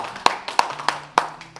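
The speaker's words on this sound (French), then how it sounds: "Applaudissez pour Agnès, elle est volontaire" At an emotional intelligence conference for executives and entrepreneurs, a few isolated, close hand claps ring out in a slow, uneven rhythm, not a full crowd's applause.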